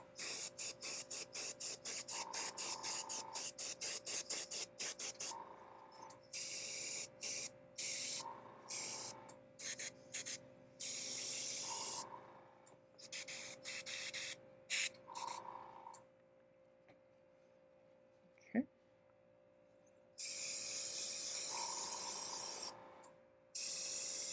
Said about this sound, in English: Alright, now we'll come in with our Ultra Matte this time and give them their final coat.